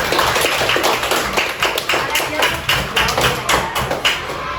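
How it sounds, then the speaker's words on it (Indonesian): Children applauding in a primary school English classroom, a fairly loud, close run of clapping with a loose rhythmic pulse and sharp individual claps standing out, sustained for several seconds. "Berikan tepuk tangan dulu."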